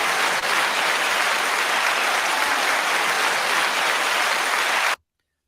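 Steady, dense applause from a crowd, loud and continuous for about five seconds, then cutting off abruptly into silence.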